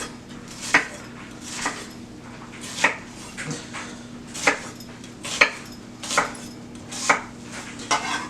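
A knife cuts peeled produce into slices on a kitchen board, making about ten sharp, evenly spaced chops close by over a low steady hum.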